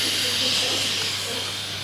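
Pressure is bled from a beer fermenting tank while brewing an IPA, producing a loud, steady, close-up hiss of escaping gas that holds constant throughout.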